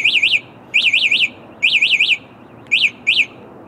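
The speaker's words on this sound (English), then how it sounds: "if we move it or shake it or engage the throttle, the alarm goes off" A motion-triggered alarm on a Wingbikes Freedom ST electric bike sounds in loud, piercing bursts of rapid warbling chirps, several short groups separated by brief gaps, close and alone.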